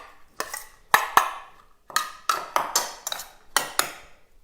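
A spoon stirs pesto into raw cauliflower rice in a bowl, a series of light clinking and scraping taps against the dish in an irregular rhythm, close and fairly quiet.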